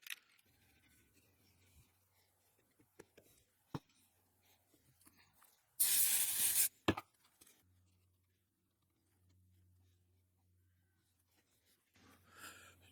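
A can of CA glue activator gives one loud hissing spray burst lasting about a second, close by, set among faint workshop handling noises and quiet stretches.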